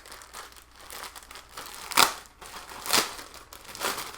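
Paper or plastic mailer crinkles and tears as a package is opened by hand, close up, with a few sharper ripping bursts standing out amid steady rustling and no talking.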